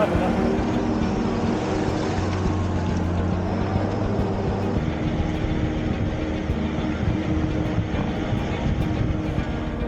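An all-terrain vehicle drives across the Kola Peninsula, its engine a loud steady drone with a rough, even rumble throughout, and faint voices underneath.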